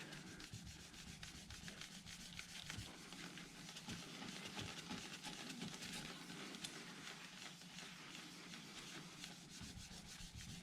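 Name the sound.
polishing metal by hand with Annie Blue metal polish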